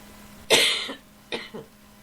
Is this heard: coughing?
yes